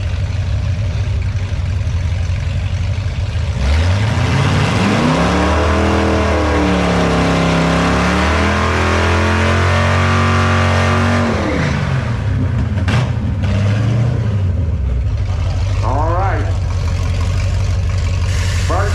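A powerful engine in a nitrous-equipped 1978 Chevrolet C10 square-body drag racing truck roars loudly, its pitch climbing and dropping through hard revs and gear changes, a sustained aggressive drag-style acceleration.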